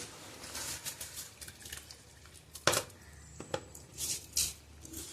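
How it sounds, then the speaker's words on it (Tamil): Rice tipped into chicken biryani masala in a pot gives a run of scattered wet splats and gritty rustles, close and moderately loud, with a few sharper bursts and no talking. "இப்போது ரைஸ் ஆட் பண்ணிக்கோங்க."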